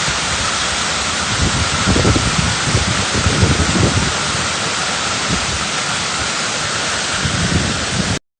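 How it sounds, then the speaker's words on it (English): A hailstorm in Spain pelts the ground in a loud, continuous hiss of dense impacts, with scattered low thumps throughout. "hail quickly turned the streets into a blanket of white"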